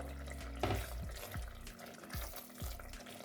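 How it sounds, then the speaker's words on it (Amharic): Water is poured into a pot of Ethiopian red cauliflower stew, a short splashing trickle over a soft simmering hiss, with several brief liquid gurgles close by. "ውሃ ጠብ አድርጌ እከድነዋለሁ"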